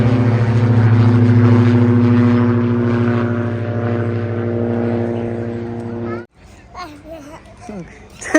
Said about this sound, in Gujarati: ધાબા પર ફરી પાછા વિમાન જોવા આવ્યા